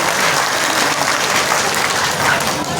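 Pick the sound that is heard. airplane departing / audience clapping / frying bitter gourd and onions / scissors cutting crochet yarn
audience clapping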